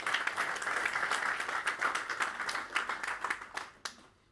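Audience applause welcoming a speaker at a gathering in India, sustained clapping from a sizeable crowd that holds steady and then tapers off into a few last claps.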